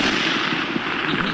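Sniper rifle shot on a US Army training range, a single sharp loud crack with a short rolling echo.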